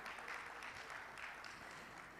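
Audience applause fills a conference hall at TiECon Ahmedabad 2026, an entrepreneurs' event, as steady, dense clapping that stays loud and continuous throughout, with no talk over it.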